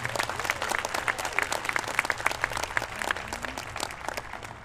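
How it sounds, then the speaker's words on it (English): Audience clapping for freshman students at a school awards ceremony, a lively patter of many hands at moderate distance that tapers off toward the end. "Round of applause for the freshmen."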